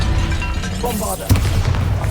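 A Bombarda blasting spell goes off in a Harry Potter video game: one loud, booming burst hits about midway, over a dense rumbling game backdrop.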